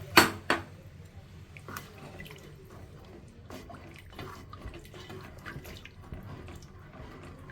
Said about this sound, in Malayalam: ആ മുളക് മിക്സ് ചെയ്ത് വെച്ചിരുന്ന പാത്രത്തിലോട്ട് വെള്ളം ഒഴിച്ച് ഇതിലോട്ട് ഒഴിക്കുക